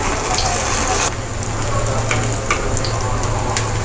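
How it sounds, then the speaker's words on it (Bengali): Potato and pumpkin pieces fry together in a pan with a loud, steady sizzle and crackle, broken by a few brief stirring scrapes. "আমি আলু আর মিষ্টি কুমড়া একসাথে ভাজবো প্ল্যান করছি"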